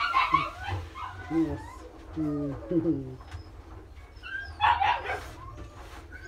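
A puppy being cradled gives soft, high whimpers and short yips in several bursts, close by, mixed with a person's affectionate talk.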